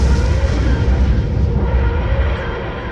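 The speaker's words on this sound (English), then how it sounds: "as the explosion covered the beach." A large explosion sweeping across a beach, a loud continuous roaring rumble with heavy low-end power that holds steady for a few seconds before easing slightly.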